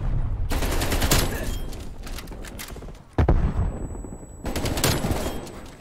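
Gunfire in the shooter Black Ops Cold War, rapid bursts and a heavy blast around the midpoint, dense and fairly loud, followed by more shooting, with no talk.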